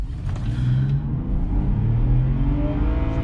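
A BMW launching from a standstill in sport mode with a brief wheel spin, its engine note rising steadily in pitch as it accelerates, loud and close from the start and sustained throughout with no talk over it.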